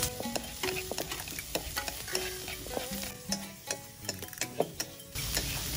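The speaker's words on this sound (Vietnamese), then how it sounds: "Cá này nãy giờ cũng thấm rồi, giờ mình bắt đầu mình kho." Fish braises in a pan with lemongrass, with a quiet sizzle under frequent clinking and scraping of a utensil against the pan.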